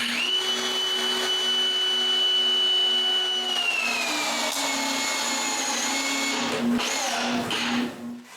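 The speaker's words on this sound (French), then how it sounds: "Je peux maintenant percer et visser tout le cadre en place." Drill driving screws into a wooden door frame: a steady, close motor whine holds one pitch for a few seconds, then shifts and wavers before winding down at the end, with no talk.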